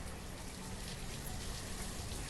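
Rain falls in the village-building game Banished as a dense, even patter of raindrops that holds steady and fairly quiet throughout.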